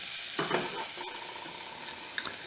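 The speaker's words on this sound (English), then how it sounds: "I lift it up off the heat because you see it's sizzling like that." Butter sizzling in a pan while flour is stirred in for a mac and cheese roux: a soft, steady fry with a few close scraping stirs and a light clink.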